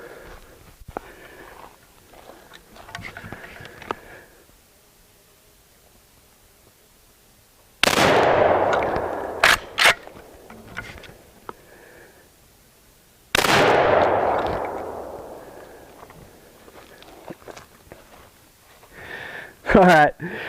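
Two loud rifle shots from a Savage 99EG lever-action in .300 Savage fired at a plastic flamingo target outdoors, each a sharp close blast with a long decaying echo, several seconds apart, with quiet talk between them.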